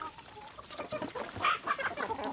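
Several chickens cluck and chatter close by at feeding time on a farm where they are given natural feed such as napier grass, with busy overlapping calls and short sharp squawks.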